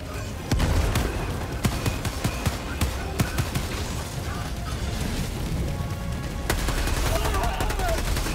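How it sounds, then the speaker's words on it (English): A grenade goes off amid a Helldivers 2 firefight, a heavy boom cutting through near-constant gunfire and sharp mechanical clatter, with voices over the battle. "throwing grenade!"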